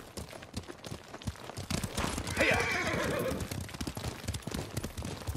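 A horse in the Ghost of Tsushima video game whinnies loudly midway through a ride, over a steady rhythmic clip-clop of hooves on ground throughout.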